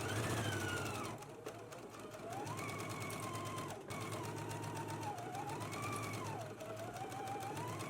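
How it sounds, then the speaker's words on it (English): A sewing machine runs a 5/8-inch seam on a dress, humming steadily close up with rising and falling motor pitch as the speed changes, and a brief pause partway through. "let's go ahead and stitch it at a 5/8 of an inch seam allowance"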